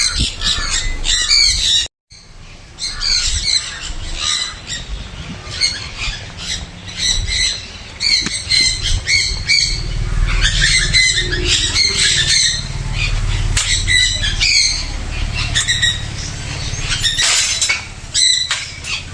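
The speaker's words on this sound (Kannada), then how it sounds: "ನೋಡಿ ಬಾತುಕೋಳಿಗಳಿದೆ" Ducks squawking loudly and repeatedly in a crowded bird enclosure at a bird museum in Ooty, harsh calls overlapping one after another with low rumbling background noise and no talking.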